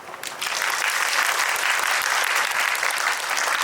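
Audience applause at a film talk event welcoming the actor and director on stage, a dense, sustained wash of clapping from a large crowd that swells quickly and holds steady throughout.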